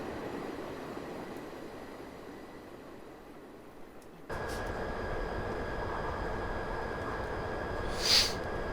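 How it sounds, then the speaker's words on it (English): A Class 59 diesel freight train runs through Train Simulator 2018 on the Medway Valley Line, giving a steady broad rumble that swells suddenly partway through and then holds loud and continuous, with a short bright hiss near the end. "It's quite the freight train, has to be said."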